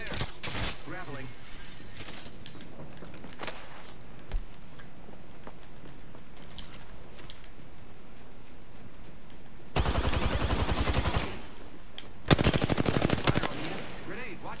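Gunfire in the Apex Legends video game, with two long rapid bursts of automatic fire and scattered single shots and clatter before them. A voice talks over parts of the clip.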